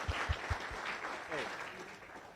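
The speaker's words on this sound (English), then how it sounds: "can you join me in the round of applause for all of our visitors and guests, please?" An audience at a Rotary Club weekly meeting claps for visitors and guests, a dense patter of hands with a few sharp claps at the start, moderately distant and steady.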